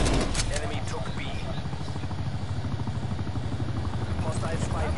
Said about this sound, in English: Hostile spy plane established overhead